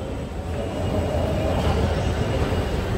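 A Delhi metro train rumbles along at close range with a steady, loud roar of wheels and motors that swells slightly midway, with no voices.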